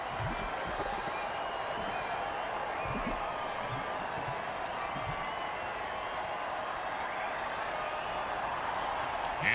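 Football video game stadium crowd cheering after a defensive offside play, a steady dense roar of applause and voices holding at an even level throughout.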